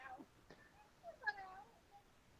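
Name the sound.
cat meowing upstairs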